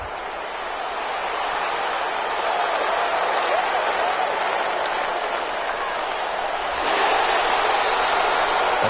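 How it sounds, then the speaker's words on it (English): A football game crowd applauds the defense after forcing a 4th down, broad sustained clapping and cheering from a large crowd that swells louder toward the end, with no clear talk on top. "How about some applause for the defense there?"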